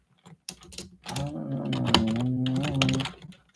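Rapid tapping on a computer keyboard, a dense run of close, crisp keystrokes that goes on for a few seconds beneath a faint hum.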